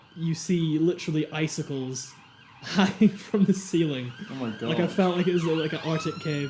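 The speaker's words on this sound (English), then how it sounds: "that's the ambulance" An ambulance siren passing outside, its wailing tones rising and falling faintly behind close, continuous conversation between people talking indoors.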